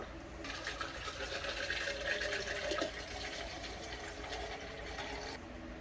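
Water running steadily into a container, a soft continuous trickle and splash heard close and faint, alone with no speech.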